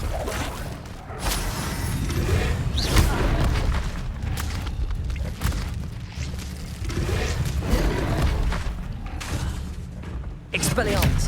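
Repeated Confringo blasting-curse explosions in the Hogwarts Legacy video game, loud booming bursts with whooshing spell sounds over a dense, continuous battle din, with voices shouting across it.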